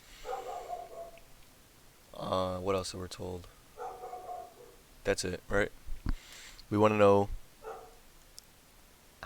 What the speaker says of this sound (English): If you hear my dog in the background, I'm sorry.